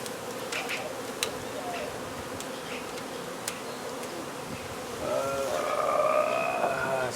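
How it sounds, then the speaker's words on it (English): Honey bees buzz in a steady, dense drone during a hive removal in Brownsville, Texas, with a few clicks and knocks, and the buzzing swells louder and higher over the last two seconds. "just messing with them bees"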